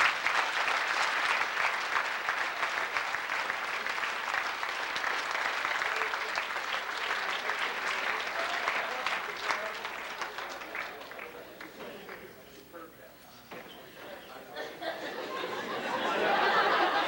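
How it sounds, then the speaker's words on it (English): After a hypnosis show at a high school class of '92 event, an audience gives sustained, dense applause that fades slightly, then swells again at the end, with scattered chuckles and chatter. "Let's give them a nice round of applause."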